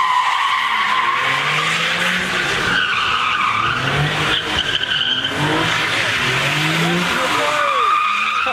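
At a big car meet, a car skids with loud, sustained tire squeal and revving engine noise sweeping up and down, close and continuous, while people talk and shout in the background; no distinct tire pop stands out.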